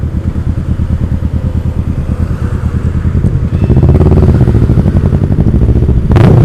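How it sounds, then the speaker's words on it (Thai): Kawasaki Ninja 650 motorcycle with a loud aftermarket exhaust creeping through heavy traffic, a close, throbbing low idle with uneven pulsing that swells into a heavier burble as the throttle is blipped, ending in a sharp rev. "ก็ฟังเสียงรถไปก่อนแล้วกันครับ"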